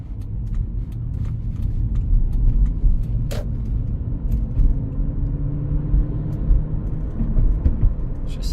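A 2003 Lexus SC 430 convertible cruising on the road, with a steady low engine and road rumble heard from inside the cabin and no one talking.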